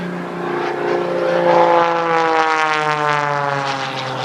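An aerobatic propeller airplane roars overhead during an airshow routine, its engine note sustained and loud with a slowly shifting pitch as it climbs and rolls, with no voices.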